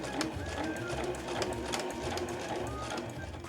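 A sewing machine stitches a smartphone pochette as the work is turned, giving a steady fast rhythmic whirring and clatter close by for several seconds, with soft background sounds.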